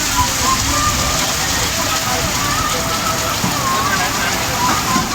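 Heavy rain pours steadily in a dense, hissing wash, loud and constant throughout, with no distinct voices above it.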